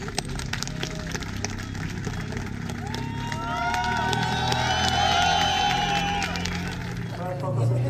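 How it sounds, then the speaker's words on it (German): Crowd cheering and applause at a European truck racing podium, a diffuse roar of clapping and whoops swelling midway, heard under a commentator speaking and some music. "Der meiste Applaus für Adam Latschko"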